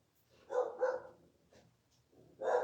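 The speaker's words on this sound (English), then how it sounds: "There's my dog." A dog barks in a house, three loud close barks in two quick bursts with a pause before the third, no talk over them.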